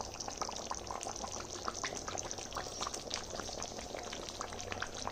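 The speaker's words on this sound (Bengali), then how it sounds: "গ্যাসটা আমি একটু বাড়িয়ে দিয়েছি যাতে টকবক করে ফোটে" A pot of liquid seasoned with fresh ground black pepper boils hard over a gas flame turned up high, giving a dense, continuous close-up bubbling and popping with no talk.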